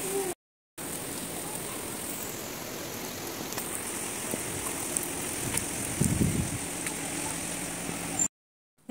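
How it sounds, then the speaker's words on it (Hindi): Heavy rain pours down as a steady, even hiss that fills the whole stretch at a moderate level, with a faint low thump near the end and no talk. "बहुत बारिश हो रही है"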